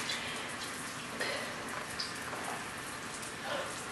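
Heavy monsoon rain pours steadily onto surfaces, a dense continuous hiss with scattered nearby drops and splashes and no voices.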